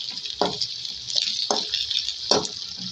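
Curry leaves and whole white cumin seeds sizzling in hot oil for a tempering, a steady bright hiss with several distinct stirring scrapes and bursts of crackle spaced through it, fairly close.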